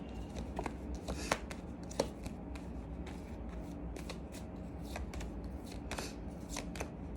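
Tarot cards are shuffled and drawn by hand, with soft riffling and sliding and a few crisp slaps, close up and quiet throughout.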